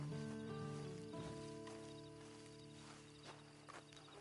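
Horse hooves clip-clop at a walking pace in Red Dead Redemption 2, faint and steady beneath a droning ambient tone, with a few sharper hoof strikes near the end.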